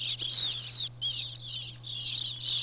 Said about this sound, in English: there were lots of birds flying around